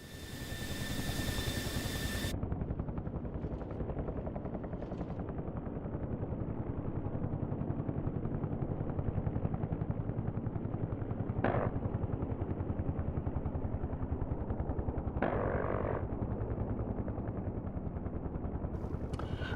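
A Huey helicopter in the DCS flight simulator drones with a loud, continuous rotor and engine roar, broken by a few short bursts of gunfire and sharp cracks partway through; no one speaks.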